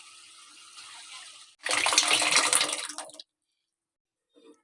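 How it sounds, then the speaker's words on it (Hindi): Mixed dal poured into ghee-fried masala in a hot pan, a loud wet splashing pour lasting about a second and a half after a quieter sizzle, then stopping abruptly into near silence. "मसाले ने घी छोड़ दिया है और अब हम डालेंगे दाल।"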